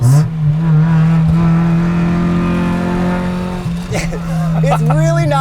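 A 1994 Honda Civic engine revs hard and loud up through the gears, steady drone rising and dropping between shifts, with tire noise and people talking over it.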